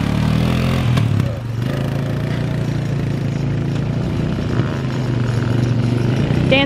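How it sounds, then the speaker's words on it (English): A four-wheeler ATV engine runs nearby with a loud, steady rumbling drone that dips briefly as the throttle shifts, then holds a constant mid-pitched growl throughout. "Look, Dan's driving the four-wheeler."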